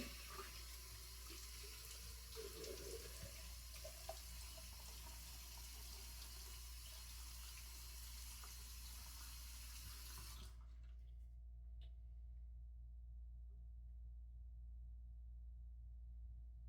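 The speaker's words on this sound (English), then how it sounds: "let me wet my face and we'll get started." A bathroom faucet runs steadily into a sink while a man wets his face before shaving; the close, constant gush carries on for about ten seconds and then cuts off, leaving a quiet room hum.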